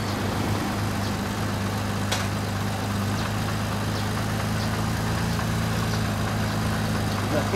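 A Honda CBX1000 six-cylinder motorcycle engine idles close by with a steady, even, low rumble that holds through the whole stretch without revving.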